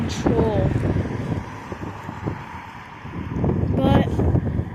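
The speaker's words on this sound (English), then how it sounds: "the wind is getting me out of control" Gusty wind buffeting the microphone outdoors, a steady rough rumble rising and falling, with brief bird-like chirps near the start and end.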